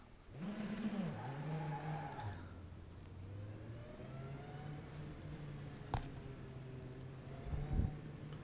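Tatus F4 race car engine in rFactor 2 at Nogisvig, a buzzing single-seater engine revving up and dropping through gear changes, then holding a steady pitch under broadband road and wind noise, with faint tire squeals.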